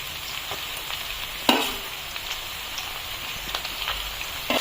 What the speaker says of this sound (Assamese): আদা নহৰুখিনি মাংসৰ লগত অলপমান বঢ়িয়াকৈ ভাজি ল'ম প্ৰথমতে